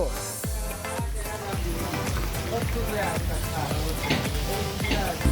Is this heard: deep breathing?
no